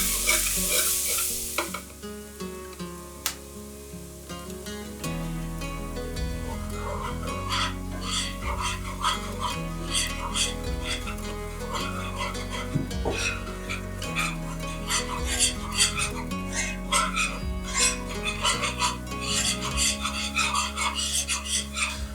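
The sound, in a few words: whisking flour and cayenne into browned garlic in a pan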